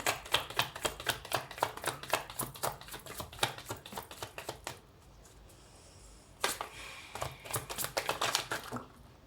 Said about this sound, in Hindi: आप स्किप कर सकते हैं शफलिंग क्योंकि ये टाइम ले रहा है